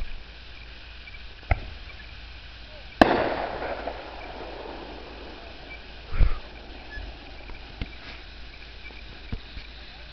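Fourth of July fireworks bang over backyards in western New York: one sharp, loud blast rolls out into a long echo, with a duller thud later and scattered faint pops against outdoor background noise.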